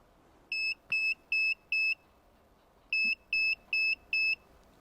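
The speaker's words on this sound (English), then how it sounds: "Once you connected everything, you hear a few beeps" A MyKey Premium remote starter module, newly connected in a Hyundai Palisade, gives two sets of four short, evenly spaced electronic beeps with a pause between them, clear and close in a quiet space.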